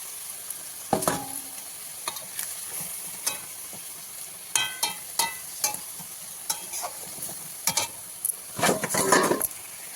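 Hilsa fish heads cook with vegetables in a pan, giving a steady soft sizzle broken by repeated sharp scrapes and clinks of a spatula stirring against the pan.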